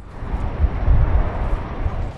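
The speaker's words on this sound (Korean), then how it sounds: "활주로에 있던 수직 이착륙기가 굉음을 내뿜으며 이륙합니다." A VTOL aircraft takes off from the runway at the Futenma US military base in Okinawa, giving a steady, heavy low roar that swells slightly midway with no talk over it.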